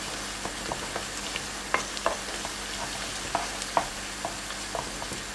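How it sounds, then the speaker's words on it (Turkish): Pepper paste and tomato paste frying with onions in a pan, a steady close sizzle broken by regular clinks and scrapes of stirring, with no voices. "Şimdi bir kaşık biber salçası, bir tatlı kaşık domates salçası ekliyorum."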